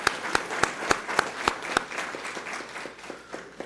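Audience at a city council meeting applauding, a few loud, evenly spaced claps up front that give way to softer, quicker scattered clapping fading over a few seconds.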